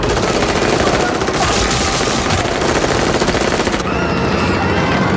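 Rapid automatic gunfire in an action film scene, dense continuous loud bursts filling the whole stretch with a layer of music or effects underneath.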